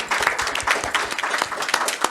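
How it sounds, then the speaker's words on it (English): Audience at a book launch during a literature festival in Karachi clapping, a short burst of scattered, uneven handclaps from a modest crowd, fairly close and lively. "I think we at least need to applaud that effort."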